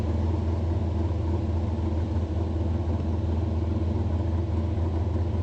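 A mud-spattered off-road race car at a Moab, Utah rock-crawling event creeps along with a steady, low engine rumble and rough idle, loud and close, with no voices over it.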